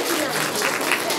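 An audience applauds the Alfa theatre troupe at a book launch in Onești, a brief burst of dense, close clapping that fills the whole moment at full volume.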